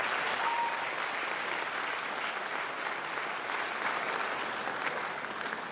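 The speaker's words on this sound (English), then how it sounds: "Another round of applause for family" A large audience at a University of Johannesburg ceremony gives families a steady round of applause, a dense even wash of clapping with no speech over it.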